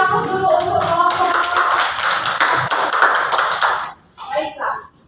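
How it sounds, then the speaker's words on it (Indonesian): Classroom group of students applauding for a presenting group, a dense burst of hand claps for about four seconds, close and loud, then tapering into scattered claps. "kasih aplaus dulu untuk kelompok"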